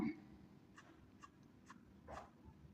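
Quick scratchy strokes of a pencil on paper, a few separate flicking lines sketched close by in a quiet room.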